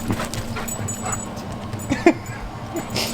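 A small puppy whimpers and yips softly in a few brief high whines over a steady background hum, close to the microphone.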